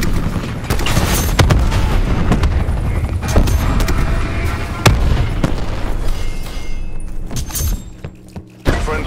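Dense game explosions and gunfire in Call of Duty on the Nuketown map, with repeated booms, thuds and rapid shots layered loudly and continuously, some blasts close and sharp, others more distant.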